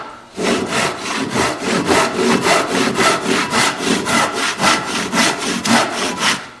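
A Japanese hand saw cuts through wood in steady, rhythmic strokes, about three per second, each a sharp rasping scrape, close and loud with no talking.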